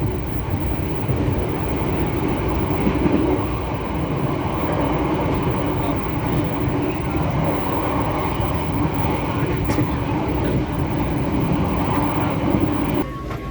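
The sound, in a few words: passenger train running on rails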